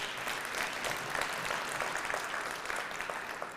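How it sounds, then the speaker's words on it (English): A live audience breaks into sustained, even applause, a dense wash of many hands clapping at moderate volume with no pauses. "And please give them a round of applause"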